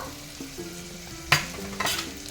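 Stirring chilli powder, Kashmiri and Byadgi, into jackfruit seed gravy frying in a pan, a soft sizzle underneath with a couple of scraping spoon strokes, close and fairly quiet, no speech.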